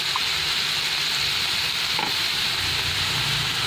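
Steady crackling sizzle of mushrooms sautéing over raised heat in a hot pan, close and continuous, with a faint clink midway.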